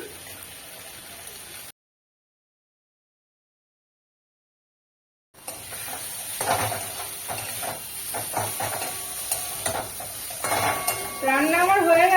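Drumstick flower chorchori with broken bori hisses and sizzles steadily in a pan, the frying picking up after a stretch of silence, with brief stirring and a voice faintly in the background.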